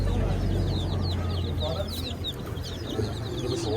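Chickens and other fowl kept for sale in a bazaar cluck and chirp steadily amid dense market crowd noise and chatter, with pigeons and fancy birds among them.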